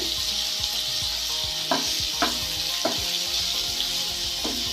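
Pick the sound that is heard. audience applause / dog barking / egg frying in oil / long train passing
egg frying in oil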